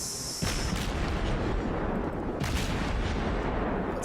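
German cruiser guns fire in World of Warships, two booming salvos that roll into a sustained loud rumble of naval gunfire with no voices.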